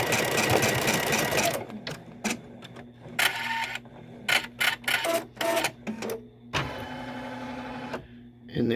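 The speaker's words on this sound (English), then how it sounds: "We're going to run this stitch again." An embroidery machine stitching in the hoop, running in a fast mechanical buzz that stops, then returns as short separate bursts of stitching and a longer run near the end, close and loud.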